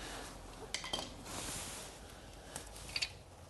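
Front wheel bearing on a VW T2 Bay being worked loose with a pry bar, quiet metallic clinks and scrapes with a few sharp taps spread across a faint, close background.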